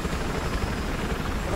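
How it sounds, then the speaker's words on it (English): Helicopter in the Battlefield 4 video game, a steady, loud broadband rotor and engine roar that fills the whole moment without letup. "This is how we drive a helicopter."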